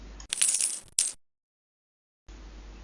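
Coins clink and jingle in two quick bursts of bright metallic rattling, close and crisp, followed by silence.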